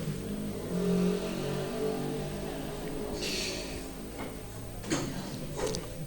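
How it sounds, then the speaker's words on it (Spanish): A loud motorcycle passes by outdoors near a gathering of people, its engine a broad, rough roar that swells and then fades, with clicks and small knocks around it. "Espera que pase la moto que hace mucho ruido."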